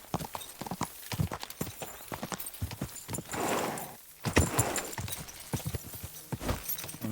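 Horse hooves clip-clopping at a walk in the medieval video game Kingdom Come Deliverance 2, a steady rhythmic series of close, crisp hoof falls with a short rustling break midway.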